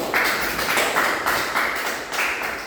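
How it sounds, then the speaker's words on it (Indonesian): A class claps hands together in a short burst of applause, a fairly close, steady patter of many hands with a few rhythmic surges and no voices over it. "Tepuk tangan dulu semuanya."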